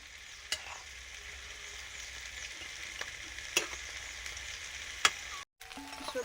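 Fried pieces and vegetables frying in a pan make a continuous soft sizzle, with sharp spatula scrapes and taps against the pan at intervals and a brief break near the end.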